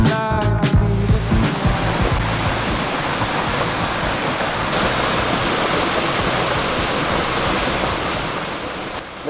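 A waterfall at Mount Field National Park, Tasmania roars as a steady, loud wash of broadband water noise, with a brief burst of other sound at the very start.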